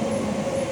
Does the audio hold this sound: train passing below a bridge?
yes